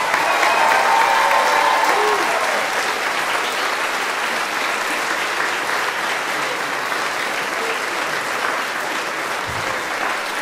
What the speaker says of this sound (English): And one more round of applause for all the people who performed today.